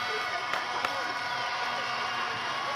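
A stadium crowd at a football game gives off a dense, continuous roar of cheering and noise that stays steady and loud throughout, with faint talk mixed in.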